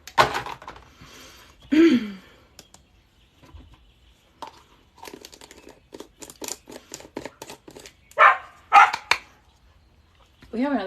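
Dogs bark outdoors: a few sharp, loud bark bursts stand out between stretches of casual talk and background noise.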